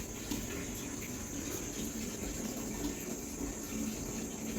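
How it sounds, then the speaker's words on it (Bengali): Water running off a freshly watered plant, a steady close trickle and splash that holds evenly throughout without pause, no voices. "এই যে টপটা বাবা শুনতে পাচ্ছেন ওটা হচ্ছে এই যে গাছে এখানে জল দিয়েছি জল পড়ছে"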